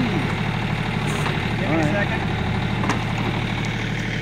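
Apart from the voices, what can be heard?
John Deere compact tractor engine idling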